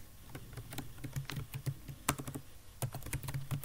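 Typing on a computer keyboard while writing a VB6.0 program, a close, quick and uneven run of key clicks and taps, heard alone without talking.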